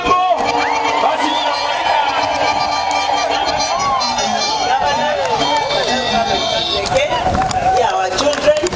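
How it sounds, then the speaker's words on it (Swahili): A crowd at the launch of a free milk programme for early childhood schools cheers and ululates for the governor, with wavering high trilling voices over dense, continuous crowd noise and shouting. "sisi tuinue mkono kwa kusema asante gavana, tukiwa na shangwe na ndelemo"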